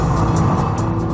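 Ayrton Senna's Williams F1 car engine at full throttle makes a loud, steady, high-revving roar in a very brief burst.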